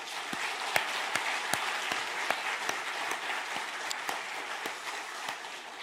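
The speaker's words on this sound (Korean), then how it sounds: "뜨거운 격려의 박수 보내겠습니다" A church congregation at a Sunday worship service claps in encouragement for its teachers, a dense steady wash of many hands with sharper individual claps standing out near the front.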